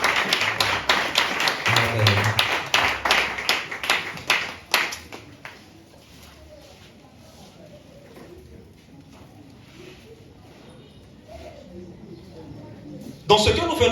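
A church congregation claps together in a fast, steady rhythm of sharp hand claps for several seconds, then falls quiet with faint murmuring before a loud burst returns at the end.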